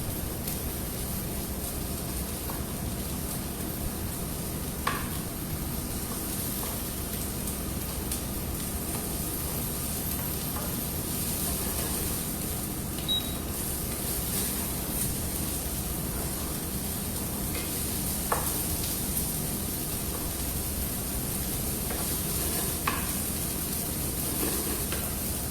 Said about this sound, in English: Bring the temperature of oil up. Just sauteing garlic and onions together.